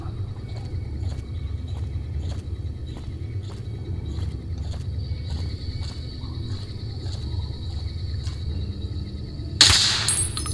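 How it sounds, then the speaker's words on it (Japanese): In Fallout: New Vegas, a faint, evenly spaced ticking runs under a low rumble, then a single muffled gunshot from a suppressed Dragunov sniper rifle cracks out near the end. "サプレッサーつけてるんで、ちょっと銃声はあれなんですけどね"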